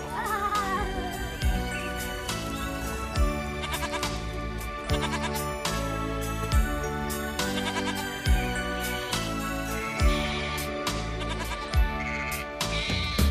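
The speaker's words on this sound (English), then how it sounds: "But first, let's visit with little Bo Peep, Who lost her sheep and didn't know where to find them." Sheep bleat in a child-friendly song arrangement, their calls set among bright jingling bells and a steady rhythmic beat, repeating throughout with musical accompaniment.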